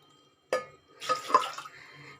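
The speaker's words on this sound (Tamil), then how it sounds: "தண்ணி இதில் மூணு கப் வச்சுக்கிறேங்க" Water splashes into a pressure cooker holding soaked chickpeas: a brief sharp splash, then a short burst of pouring and sloshing that fades, close and fairly clear.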